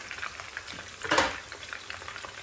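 Potato and shrimp galettes with herbs fry gently in a pan, giving a soft, steady sizzle with a brief louder crackle in the middle.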